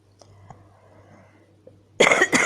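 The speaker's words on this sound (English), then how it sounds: "I still have this cough." After a quiet stretch with faint background noise, a person coughs twice, close and sharp.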